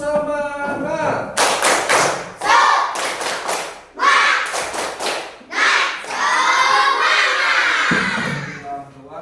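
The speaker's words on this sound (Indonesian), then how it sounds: "Coba tepuk semangat." A class of students does a 'tepuk semangat' spirit clap, sharp clusters of rhythmic claps alternating with group chanting, loud and close.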